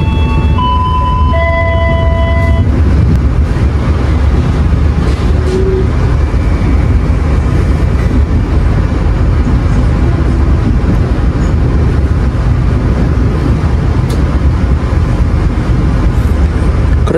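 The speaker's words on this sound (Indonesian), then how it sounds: "Kereta api Gajah Wong masuk jalur 2 stasiun Kuto Winangun" The Gajah Wong passenger train rolls into track 2 at Kutowinangun station with a loud, continuous rumble of wheels and engine, a few high squealing tones early on, with no talk.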